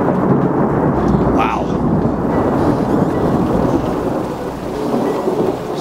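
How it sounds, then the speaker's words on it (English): Overhead in the mountains of western China, a thunderstorm rolls with loud, continuous heavy rain and a deep rumbling of thunder close by, and a voice briefly exclaims partway through. "Storm is right overhead now."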